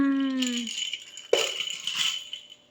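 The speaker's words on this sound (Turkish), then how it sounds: "Çıngıran." A plastic baby rattle shaken in a quick burst of bright, close clicking, with a sharper shake partway through and a soft tone at the start.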